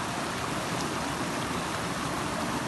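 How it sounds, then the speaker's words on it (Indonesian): River stream at Kawah Ratu crater on Mount Salak, flowing in a continuous, dense broadband rush of water that stays steady and fairly loud, with no voices. "Salah satu hal yang menarik perhatian kami di area Kawah Ratu adalah aliran sungainya"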